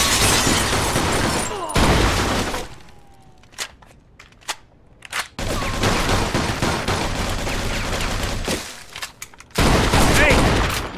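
Loud bursts of rapid automatic gunfire in a Mafia 2 shootout, sustained volleys broken by brief gaps with scattered single shots and clattering impacts.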